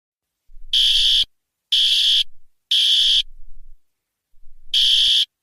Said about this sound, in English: it's that the sound of the fire alarm that is going off